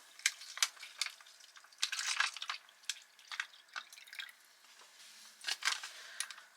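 Water pours into a Swedish 24-hour special purpose arctic ration pouch (Menu 9), heard as close, irregular splashing and trickling bursts with short pauses and no talk.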